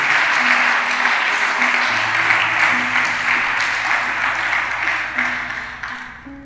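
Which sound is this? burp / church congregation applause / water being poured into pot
church congregation applause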